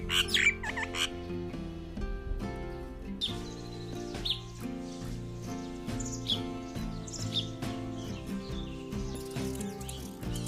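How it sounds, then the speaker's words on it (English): Russet sparrow, a thick-billed seed-eating bird of the Himalayan region of Himachal Pradesh, giving scattered short chirps and squeaks at moderate distance. A steady tonal hum runs beneath the calls and no one speaks. "The russet sparrow, also called tree sparrow, it is seed-eating bird with thick bill."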